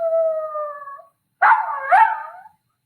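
A dog howls up close, first a long steady tone, then after a brief pause a second wavering, rising-and-falling howl, loud and alone.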